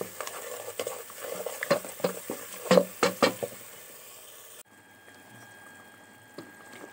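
A spoon scrapes and knocks against a pot as koshari tomato sauce is stirred, giving a run of close, irregular taps and wet swishes that stop after about four seconds, leaving a quiet background.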